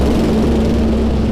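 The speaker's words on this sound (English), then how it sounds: "That was a loud truck." A loud truck passes near a Toronto airport, a heavy, steady engine rumble with a droning low hum, close and continuous through the whole moment.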